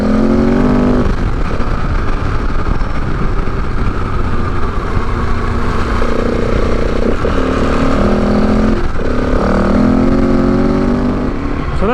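A KTM 690 adventure motorcycle runs steadily and loud throughout, close to the listener, with the engine note rising and falling as the rider shifts and accelerates, under constant wind noise.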